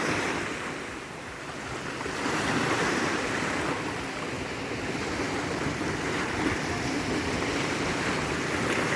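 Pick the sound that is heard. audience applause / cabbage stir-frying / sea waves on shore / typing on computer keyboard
sea waves on shore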